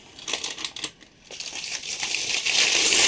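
Crinkly plastic packaging of a bracelet holder being unwrapped by hand, a close run of crackling rustles with a brief pause before steadier, denser crinkling builds toward the end.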